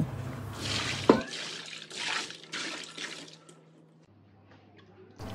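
Hot water runs and splashes in a kitchen sink as oily kitchen chimney parts are washed, a steady close rush of water with clattering drips, then a low hum after it quiets.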